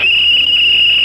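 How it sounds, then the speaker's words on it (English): A single shrill whistle blast, loud and sustained, sounding from a played video and holding a steady pitch for about a second. "He blew a whistle."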